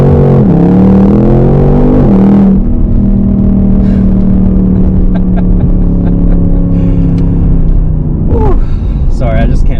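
A 2021 Ford Mustang Mach 1 in Sport Plus mode with exhaust dampers wide open revs loudly, its engine note rising and falling before settling into a strong steady drone, then blipping again near the end.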